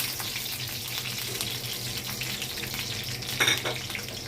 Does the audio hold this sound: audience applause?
no